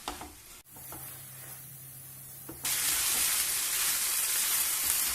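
Corn and peas cook in a pan with a quiet hiss that jumps to a loud, steady sizzle partway through and then holds, close and without talk.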